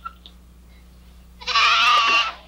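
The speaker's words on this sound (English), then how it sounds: "It's a baby goat." A baby goat lets out a single loud, close bleat lasting almost a second after a quiet stretch, clear and alone in a calm indoor setting.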